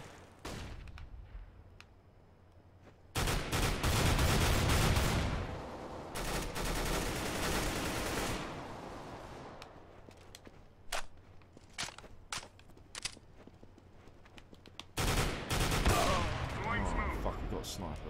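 Bursts of gunfire in the video game CS:GO, heavy sustained volleys near the start and end with scattered single shots and footsteps between, loud and close in the mix.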